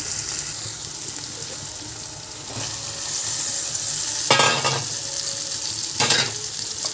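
Brinjals being stirred into an onion-tomato raw prawn curry, a steady loud sizzle of frying with sharp scraping bursts of the spoon against the pan.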